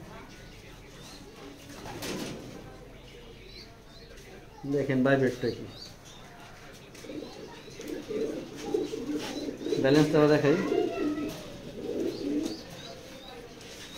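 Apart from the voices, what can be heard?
pigeons cooing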